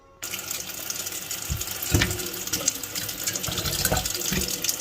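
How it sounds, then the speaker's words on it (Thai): Tap water runs steadily into a sink while salted Isan sausage is rinsed under it, with a few closer splashes and clunks of handling, no talk. "ล้างตะที่ก๊อกน้ำนะคะ"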